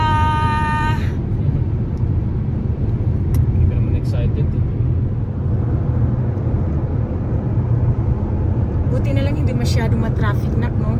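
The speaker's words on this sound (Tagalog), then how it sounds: "Masyado ma-traffic na, no?" A car drives through road traffic on the way to the airport, with a constant low engine and road rumble inside the vehicle and people talking throughout.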